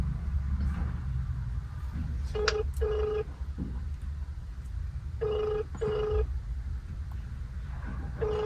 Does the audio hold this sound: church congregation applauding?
no